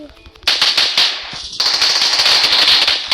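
Rapid automatic gunfire from a weapon in a video game bursts out loud and close, with a short pause before a second long, sustained volley.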